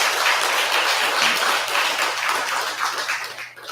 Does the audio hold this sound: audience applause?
yes